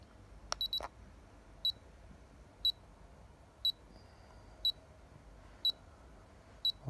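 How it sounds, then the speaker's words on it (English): A small electronic heart-rate device held against a fingertip beeps at a steady one-second rhythm, short high-pitched beeps over quiet background, after a couple of clicks at the start. "I've got to wait until it takes a large amount of beeps"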